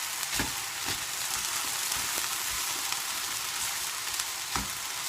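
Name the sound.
fish frying in a pan, broken into flakes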